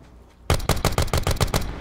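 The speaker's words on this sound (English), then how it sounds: "He's getting shot from the other guys." Rapid gunfire in the video game Call of Duty: Blackout, a sudden burst of about eight loud, evenly spaced shots breaking in after a short quiet lead-in.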